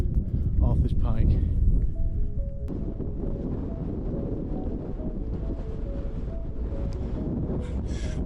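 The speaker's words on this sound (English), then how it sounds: "because we're on like an open fell land, the wind's whipping across, so hopefully the microphone cover's doing its job" Strong wind whipping across open fell land on a ridge near Arthur's Pike buffets the microphone with a steady, loud roar throughout.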